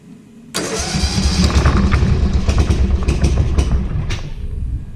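A 1975 Sears Suburban ST16 lawn tractor engine starts abruptly and keeps running loud and close, a rough, steady mid-pitched roar with small throttle fluctuations and no talk.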